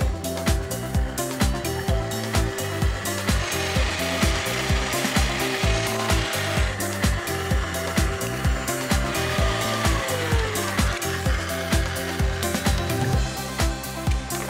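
Electric stand mixer beating an egg into choux pastry dough, a continuous loud motor whir with a steady rhythmic churning and knocking of the beater throughout, close by and without talk.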